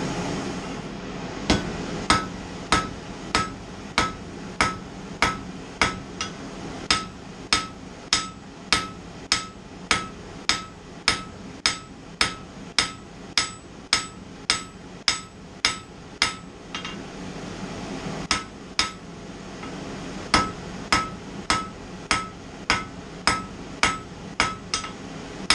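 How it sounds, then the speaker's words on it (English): Steady, evenly spaced blows from the heel of a hammer ring out on metal over the edge of an anvil while forging a sheep barrier, dozens of sharp clanging strikes in a regular rhythm with a brief pause midway. "Got to use the heel of the hammer off the edge of the anvil."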